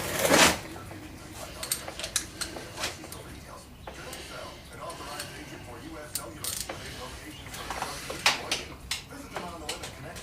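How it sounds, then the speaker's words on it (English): A wrench works loose the bolts on the clutch release housing cover of a 2002 Harley-Davidson FLHTCI, with intermittent close metallic clicks and ratcheting taps scattered throughout, moderately loud and irregular. "And then I'm going to take these bolts out and pull this cover off."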